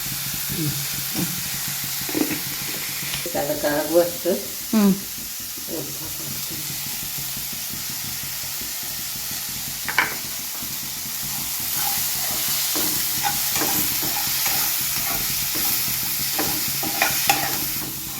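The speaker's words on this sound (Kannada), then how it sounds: "ಈ ಥರ ಮೊದ್ಲೆಲ್ಲ ಒಗ್ಗರಣೆ ಕೊಟ್ಕೋಬೇಕ್ರಿ" Tempering spices of chilli powder and turmeric sizzling in hot oil while a spoon stirs and scrapes the pan, close and steady, with brief stirring clatters early on and a softer continuous hiss throughout.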